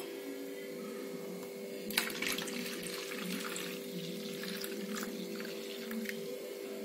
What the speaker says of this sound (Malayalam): അപ്പോൾ നമുക്ക് 2 കപ്പ് വെള്ളവും ചേർത്ത് കൊടുക്കാം.